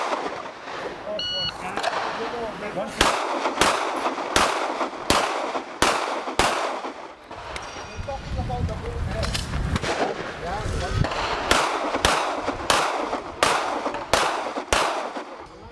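Gunshots ring out at an outdoor IPSC shooting match at Kokohead, sharp loud cracks fired in quick irregular strings with short pauses, over a background of wind and faint voices.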